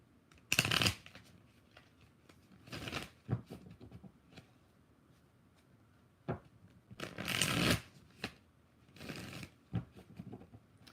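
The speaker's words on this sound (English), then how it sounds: "3 shuffles for Katrina." Tarot cards are shuffled in three quick riffling bursts separated by quiet pauses, close and crisp, with a few soft taps between.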